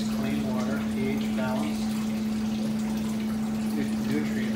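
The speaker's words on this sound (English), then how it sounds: "the water is pumped. There's a submersible pump in it." A submersible pump circulates water through a hydroponic lettuce reservoir, giving a steady low hum with trickling water running beneath, while faint voice-like sounds come and go in the background.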